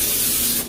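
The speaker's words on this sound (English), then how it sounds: "Spray my pan a little bit." Cooking spray hisses steadily onto a frying pan before salmon is fried, a short continuous aerosol burst that tapers off at the end, close and fairly loud with no talk.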